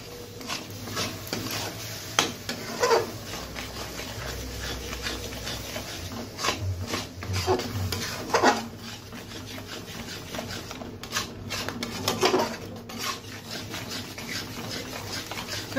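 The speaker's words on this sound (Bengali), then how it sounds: "তো এখন দিয়ে দেব ছানা। তো ভালোভাবে নেড়ে নিই।" Fresh chhana cheese is stirred in a pan for a sandesh sweet, giving soft rubbing and scraping strokes with occasional louder scrapes, close and fairly steady, without speech.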